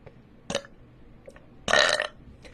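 A woman burps twice: a short belch first, then a longer, louder, rumbling one, both close and clear with no talking in between.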